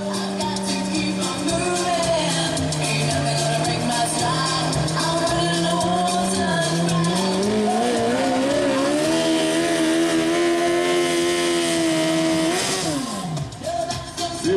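Garden tractor engine at a garden pulling event in Foldingbro, Denmark, revving loud and close with a steady droning pitch that climbs and holds, then drops sharply near the end, continuous throughout with no talk.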